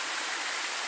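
A small stream flows under a trail footbridge in a state park forest, its steady broadband rush of water close and continuous with no voices over it.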